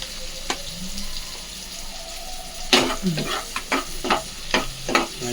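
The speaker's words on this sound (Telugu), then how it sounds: "ఆనియన్స్ వేస్తున్నాం అలాగే పచ్చిమిర్చి" Onions and green chilies frying in a pan for homemade carrot and bean fried rice, a soft sizzle followed by several loud scraping stirs of a spatula against the pan.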